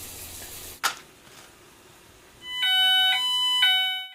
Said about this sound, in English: Within seconds, the dual optical alarm goes off.